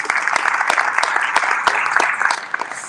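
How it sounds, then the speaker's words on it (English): Applause from the audience at the close of an agriculture panel session, a steady dense wash of clapping lasting throughout, fairly loud and without talk. "Let's give them a round of applause."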